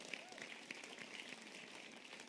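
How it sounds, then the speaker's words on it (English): An audience gives a round of applause for a leadership speaker: steady, moderately distant clapping with a few sharper claps, with faint talk mixed in. "So give him a round of applause."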